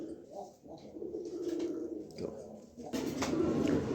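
Pigeons coo in low, soft repeated phrases, among them a female racing pigeon kept with a male. The calls come close and fairly loud, with a busier burst of cooing near the end, over faint background rustle.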